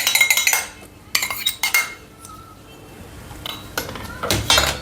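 Spoon clinking against a metal sieve as four spoonfuls of cocoa powder are tipped in for homemade chocolate, a few sharp taps and scrapes in quick bursts separated by short quiet gaps.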